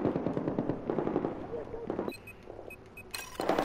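Gunfire in Battlefield 4 team deathmatch, quick bursts of rapid shots close by, broken by short pauses and metallic clinks, with game noise and a voice talking over parts of it.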